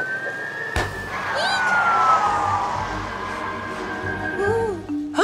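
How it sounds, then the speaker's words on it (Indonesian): A fire truck siren wails steadily over a busy cartoon fire scene, holding a rising and falling tone with shouting voices and clatter mixed in. "Truk damkar Fiona, ada kebakaran."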